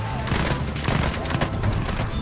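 Sustained rattling machine gun fire in Battlefield 1, loud and close, in fast continuous bursts with scattered heavier thumps underneath.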